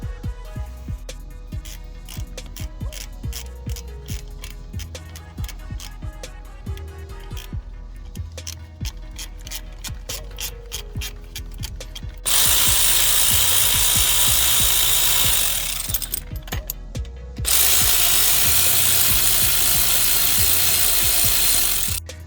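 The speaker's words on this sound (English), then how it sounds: "We're gonna start by removing the 10mm caliper bolts here." A ratchet clicks rapidly and steadily while loosening 10mm brake caliper bolts on a Chevy front brake, then a loud power tool or air wrench whirs in two long sustained bursts nearby.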